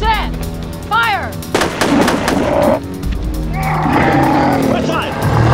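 Volleys of rifle fire on shouted command in an action movie battle, sharp loud bursts cracking out between barked orders, with screeching creature cries and a dense rumbling background.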